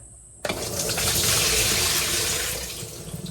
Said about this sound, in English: So we're just gonna pour this in the strainer.